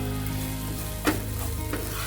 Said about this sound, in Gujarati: હવે આપણે એની સારી રીતે સાંતળી દઈશું.